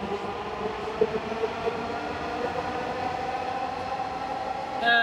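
A metro rail train passes on an elevated line, giving a sustained rumble with whining tonal hum. A short clatter comes near the end, and there is no speech.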